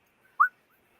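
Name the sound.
person imitating a whistle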